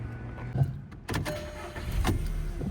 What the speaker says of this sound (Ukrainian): Перевірено стан роботи двигуна.